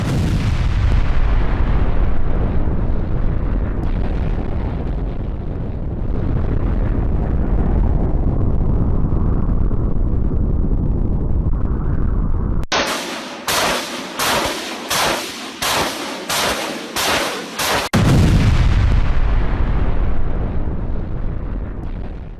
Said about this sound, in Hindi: बैटल ग्राउंड में MSTA-B से ताबड़तोड़ प्रहार हो रहा है